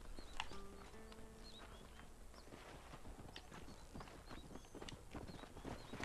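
Hooves clip-clop steadily at a walking pace in the video game Red Dead Redemption, over a dense ambient bed, with a few short bird-like chirps and tones scattered through.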